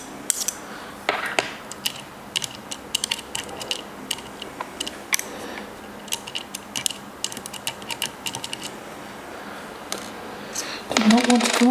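Small clicks, ticks and scrapes of a screwdriver working screws out of the casing of night vision binoculars during a battery replacement, close and fairly quiet, with a louder rattle near the end.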